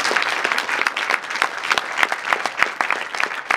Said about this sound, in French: j'aimerais qu'on les applaudisse tous s'il vous plaît